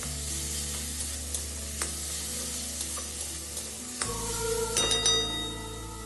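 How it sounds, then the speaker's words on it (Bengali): A spice paste of turmeric and cumin powder loosened with a little water fries in a kadai for fish roe curry, a steady close sizzle with light stirring taps, swelling louder and busier toward the end, with no talking. "হলুদ গুঁড়ো, জিরে গুঁড়ো এবং সামান্য পরিমাণে জল দিয়ে মশলাটাকে কষিয়ে নেব যাতে মশলাটা কড়াইতে লেগে না যায়"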